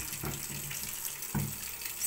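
Water runs steadily from a tap for handwashing, a soft, continuous hiss and splash at close range, with a couple of slightly louder splashes as hands move under the stream.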